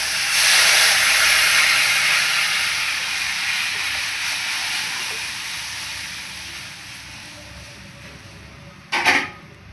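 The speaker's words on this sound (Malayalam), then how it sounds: "ഇതിപ്പോൾ നന്നായിട്ട് തിളച്ച് തുടങ്ങിയിട്ടുണ്ട്." Rasam with tamarind mixture heats in a pan on the stove, giving a steady, fairly loud steamy hiss that slowly fades, with a sharp brief clatter near the end.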